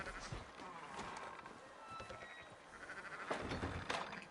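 Sheep bleat repeatedly among a flock, the calls close and moderately loud, mixed with shuffling farmyard movement and a busy, noisy background.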